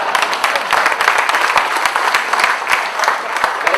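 Sustained applause from a large audience at a live talk in Chembur, dense and steady clapping that fills the room without a break.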